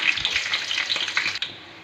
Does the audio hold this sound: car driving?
no